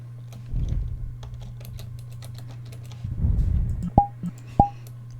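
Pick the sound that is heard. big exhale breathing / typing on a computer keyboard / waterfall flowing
typing on a computer keyboard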